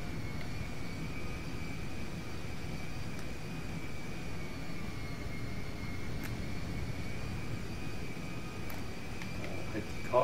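Steady, continuous drone of a cargo plane's engines in a GTA 5 mod, a broad rumbling roar with a sustained whine on top, holding even throughout with faint speech-like sounds mixed in.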